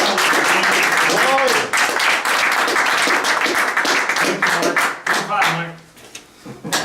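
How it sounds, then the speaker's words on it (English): An audience at a seminar claps in loud, dense applause that fills most of the stretch, thinning into scattered claps toward the end, with voices and cheers mixed in. "Give him a big round of applause."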